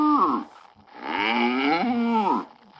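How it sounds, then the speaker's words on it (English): A cow moos twice in close succession, each call a loud, drawn-out bellow that sweeps upward and then falls away, with a short gap between the two calls and nothing else sounding. "make the cow sound."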